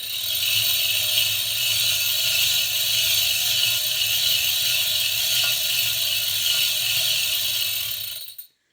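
A chain hoist being raised: a steady mechanical ratcheting clatter runs continuously for about eight seconds, close and even, then stops abruptly.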